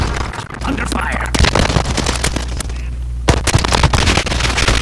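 Bursts of automatic gunfire and scattered shots in the Warzone video game, loud and dense through the whole stretch with sharp peaks, while voices talk over the combat.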